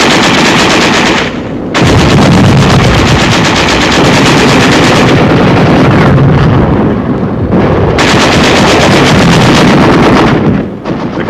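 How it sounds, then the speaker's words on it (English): Sustained machine gun fire with heavy bursts and occasional shell blasts during a WWII advance of tanks and infantry into a besieged city in 1945, loud and nearly continuous with brief gaps between volleys. "There is some machine gun fire and occasional shells, but little concerted resistance."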